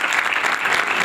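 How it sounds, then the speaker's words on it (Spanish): Steady applause from a conference audience, dense continuous clapping throughout, fairly loud and close. "Le damos un aplauso"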